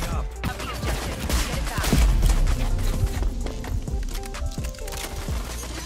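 Gunfire in the online shooter Rogue Company rattles through a dense, busy game mix, rapid cracking shots and impacts layered over clattering effects and background noise, loud and continuous.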